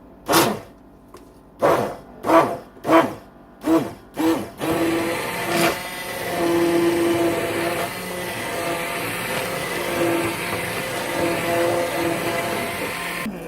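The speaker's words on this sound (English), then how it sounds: "And you're going to blend until smooth, 25 to 30 seconds." Pancake batter whirring in a blender, opening with about six short loud pulses, then running steadily for several seconds at a fairly even, close-up drone.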